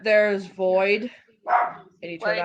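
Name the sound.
Chihuahuas barking in the background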